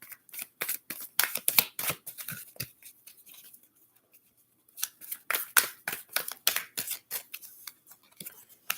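Close, papery tarot cards are shuffled in a quick irregular series of snaps and riffles, pausing for about a second before resuming.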